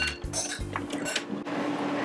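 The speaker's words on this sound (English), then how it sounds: "Now I'm just going to tip them onto this baking sheet." Oiled corn and tomatoes tipped onto a baking sheet, a few soft clattering and scraping knocks on metal, brief and close, followed by quieter rustling.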